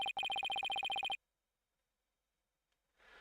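A cell phone ringing in the Phoenix Wright: Ace Attorney video game: a rapid, evenly spaced run of bright electronic chirps lasting about a second, then silence before faint noise creeps back in.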